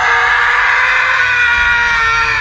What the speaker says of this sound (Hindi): सुधांशु चिल्लाता हुआ पलटा